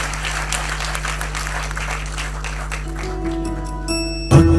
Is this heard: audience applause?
yes